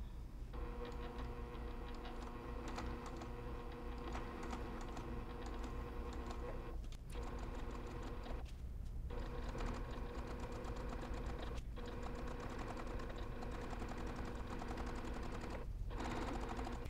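A sewing machine stitches slowly along a cross stitch piece being made into a zippered pillow, a steady close mechanical whirring and needle clatter with a few brief pauses, no voices.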